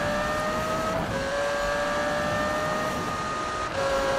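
A Lamborghini engine in the Need for Speed (2015) video game drones loudly and continuously, its pitch rising with each gear and dropping at the shifts.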